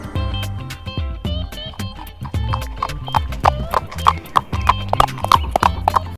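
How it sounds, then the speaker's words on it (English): Horse hooves clip-clopping in a steady rhythm, joined by several bright neighs and whinnies toward the end, close and clear over a light musical backing. "H for horse."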